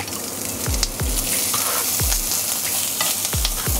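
Meat searing in a pan of hot oil for kebab, a steady loud sizzle with repeated low thumps and scrapes as it is stirred and turned, no talking.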